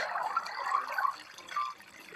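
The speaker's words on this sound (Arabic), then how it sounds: "لقد وصل الماء" Water runs and trickles briefly in the Flow Legends video game, a light splashy flow with a few drip-like accents that fades after a couple of seconds.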